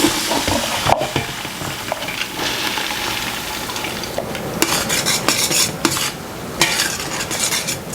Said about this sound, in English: while my onions are sauteing for a few minutes